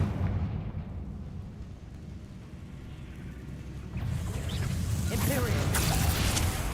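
In the Hogwarts Legacy video game, a Confringo fire spell detonates in a rumbling explosive burst that swells midway and stays loud, with low booming energy and a voice talking over the game.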